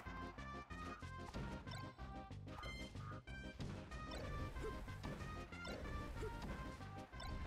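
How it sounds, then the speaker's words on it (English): A shoulder smack hit in the fighting game Super Smash Bros. Melee, a sharp crashing impact amid busy game music and other hit effects, steady and loud throughout with no talk. "Shoulder smack."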